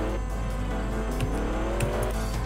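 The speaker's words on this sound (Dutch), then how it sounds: "Komt hij met zijn auto aan hoor." A car engine in Roblox Mad City drones steadily with rising revs, loud and continuous, with a few brief clicks over it.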